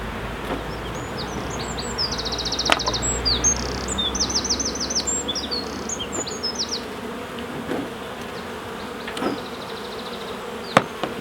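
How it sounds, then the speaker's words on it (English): Honey bees buzzing at the front of a hive during a spring inspection, a dense continuous drone with individual bees zipping close past, and birds chirping in the background. "There is a lot of bees going in the front of this hive"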